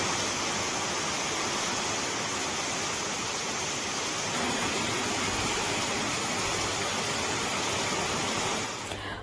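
Heavy floodwater rushes along village roads in Sardoi, Modasa, after torrential rain, a dense, continuous roar of flowing water at close range with no voices and no break until it cuts off at the end.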